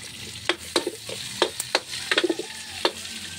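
Tomatoes go into a pan of garlic and onions already fried golden brown, making a low sizzle broken by sharp, repeated clacks of a utensil stirring against the pan.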